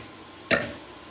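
A girl lets out a single short, sharp burp, close and fairly loud, standing alone against quiet background.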